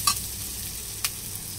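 Onion and garlic fry in a pan with a soft, steady sizzle close by, marked by two brief scraping stirs of a utensil against the pan.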